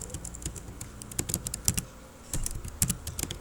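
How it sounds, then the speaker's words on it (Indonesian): Commands are typed on a computer keyboard into a Cisco Packet Tracer switch CLI: quick clusters of crisp, close keystrokes with a short pause in the middle, then another burst of clicks. "Di sini kita ketikkan enable"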